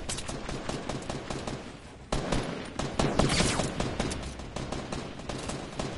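Rapid automatic gunfire in a video game, a dense continuous burst of shots with overlapping bursts, loud and close, growing heavier partway through with no talking.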